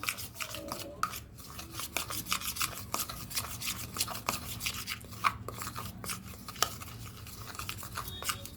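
Flour and oil are worked together by hand into shankarpali dough, giving a steady, soft, gritty rubbing and scraping that repeats close by at a low level for several seconds.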